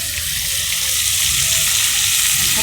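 Coral fish fry in hot oil in a rooftop kitchen, a loud, dense, continuous sizzle that stays steady throughout.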